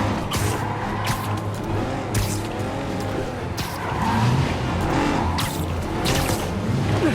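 A car skids with squealing tyres during a chase in Marvel's Spider-Man video game. The engine roar and skid noise stay loud and continuous throughout.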